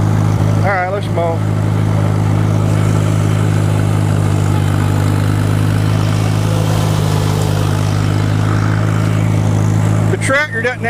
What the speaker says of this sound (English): All right, let's mow.